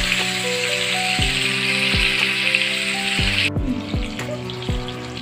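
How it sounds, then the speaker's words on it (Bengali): Eggs coated in salt and turmeric fry in hot oil with a dense, steady sizzle close by. A few soft knocks and clinks come through, and the hiss drops off near the end. "এখানে লবণ আর হলুদ দিয়ে ডিম মাখিয়েছি, তেলে ভেজে দেব।"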